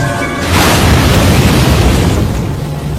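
An explosion in a film, set off by burning cloth, bursts loudly after a brief lull and then rolls on as a dense, sustained roar for a couple of seconds.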